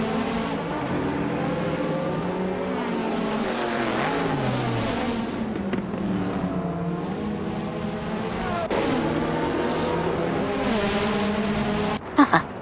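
A classic 1988 McLaren MP4/4 race car at the Nürburgring in a racing video game, its engine droning and shifting pitch as it revs up and down steadily, close and continuous.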